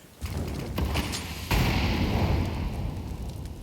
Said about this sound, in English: Incendiary set. Molotovs.